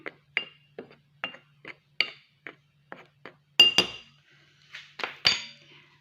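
A utensil taps and clinks rhythmically against a glass bowl while mixing flour with baking powder, with a few louder scraping knocks; mixing sounds alone without speech.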